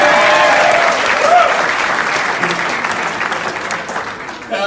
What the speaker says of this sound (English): And a big round of applause for the token Gentile in the audience.